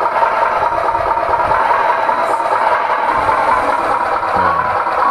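Sound module on a handmade RC miniature Hino 500 truck playing engine throttle, a loud steady electronic diesel drone with a slight rattle, close and continuous without talk.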